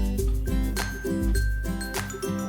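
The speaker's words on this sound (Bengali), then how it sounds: "10 মিনিট পর ঢাকাটা খুলছি।" Metal lid lifted off a cooking pot of simmering potato and kohlrabi curry after ten minutes on medium flame, giving a close, loud clink and ringing metallic scrape over steady kitchen hum.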